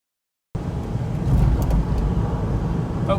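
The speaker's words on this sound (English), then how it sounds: "I've been on my little driving test here for I don't know, 20-25 minutes now with the Ranger on the trailer" A Jeep towing a trailer carrying a Ranger drives along a road, giving a steady, loud rumble of engine and road noise that starts abruptly after a brief silence and continues without talk.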